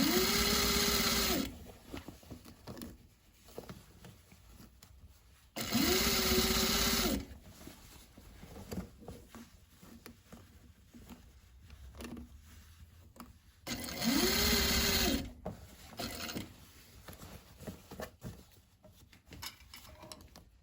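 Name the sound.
sewing machine stitching a bag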